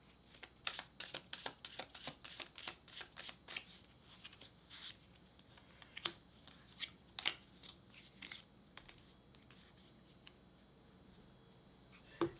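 Tarot cards being shuffled by hand, a run of quick papery riffles and slaps that thins out into softer scattered flicks, close but quiet, with no talking.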